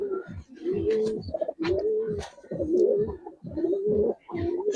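Giribaz and coloring pigeons coo repeatedly and close by, with a steady run of rolling, throaty calls that follow one another with only brief pauses, and no talking.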